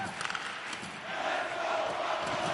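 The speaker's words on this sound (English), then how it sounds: "You can feel the energy in this crowd" Arena crowd roaring in the NHL 25 hockey video game during a tied playoff game, a dense, swelling cheer that grows louder and holds steady, with no talk over it.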